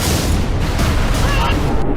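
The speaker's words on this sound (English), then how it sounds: "what caused the explosion was a couple of hornets and some fusion coils that definitely weren't there before" A booming explosion of fusion coils and a couple of Hornet aircraft in a Halo-engine Red vs Blue scene, a dense, loud, sustained roar filling the whole two seconds.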